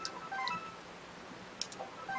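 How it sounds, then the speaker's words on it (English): A short Animal Crossing: New Leaf town tune jingle plays as a few quiet, bright beeping notes in a sparse melody over faint background hiss, with scattered soft tones across two seconds. "That's what my town tune in New Leaf has been for a little over a year."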